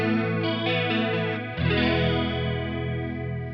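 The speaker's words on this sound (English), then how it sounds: "Boss chorus." Electric guitar through a Boss CE-1 chorus effect modelled on a Kemper Profiler, sustained chords with a slow wavering shimmer, restruck once partway through and left ringing.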